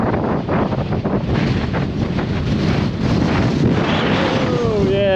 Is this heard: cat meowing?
no